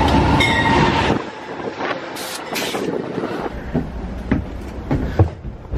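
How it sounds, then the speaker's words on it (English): An Amtrak train pulls into Rockville station in Maryland. A loud rumble opens the stretch, then rail clatter, wheel squeals and scattered metallic clicks and clanks continue close by as it rolls in. "Now my train's coming."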